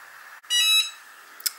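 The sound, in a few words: Cricut MugPress beeping when the mug is ready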